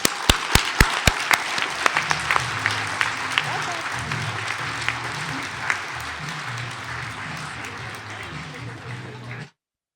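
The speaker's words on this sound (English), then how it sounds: "Please join me in congratulating Rebecca with a big round of applause." An audience applauds at a mining-industry awards ceremony, beginning with a few sharp, distinct claps that quickly swell into steady, full applause lasting about nine seconds before cutting off.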